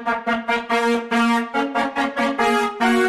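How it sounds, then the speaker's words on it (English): Widened, distorted synth brass with reverb plays a fast run of smeared, sustained horn stabs that blur into each other, a dense bright tone filling the stereo field, loud and without any speech. "Then we're adding some Ozone 9 Imager to increase the stereo width of the sound to make it wider."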